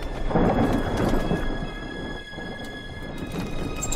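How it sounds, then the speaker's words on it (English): Thunder rumbles from an approaching storm in the video game Fable: The Journey, with steady rain and a faint high musical tone behind it, and no voices. "Wherever that storm's coming from, it's heading this way"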